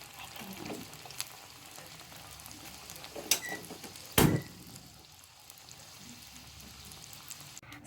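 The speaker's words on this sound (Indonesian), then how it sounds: "Minyaknya sudah panas, kemudian kita goreng kotelnya." Kotel wobonkol, a shell-shaped snack, frying in hot oil with a soft steady sizzle and a few louder pops and crackles.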